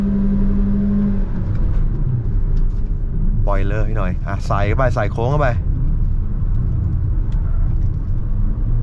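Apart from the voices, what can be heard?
MG VS HEV hybrid car driving in sport mode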